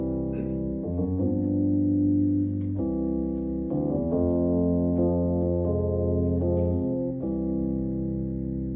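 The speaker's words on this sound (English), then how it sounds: "And a chord progression like that sounds like this." A short sequence of sustained chords played on a keyboard instrument, each chord changing every second or so, clear and close with no talking.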